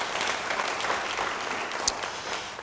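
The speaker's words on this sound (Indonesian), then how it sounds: "Sekali lagi beri tepuk tangan yang baik bagi dia." Church congregation applause rolls on as a continuous, fairly loud wash of clapping, with one sharper clap standing out near the end.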